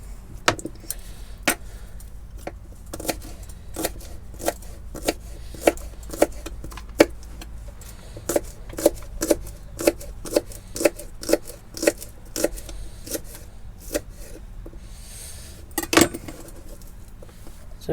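Knife chopping spring onion on a board, a run of quick sharp taps in uneven rhythm, close and fairly clear, with one louder knock near the end.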